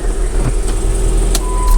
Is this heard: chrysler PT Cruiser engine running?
yes